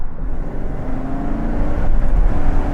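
A GMC Sierra 1500 Denali pickup truck engine accelerates, a low steady rumble building slightly in loudness over a few seconds, heard from inside the cab with no talk.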